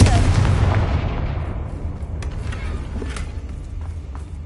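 An explosive fire spell going off in the Hogwarts Legacy video game, a loud broadband blast at the start that decays into a rumbling tail with scattered crackles.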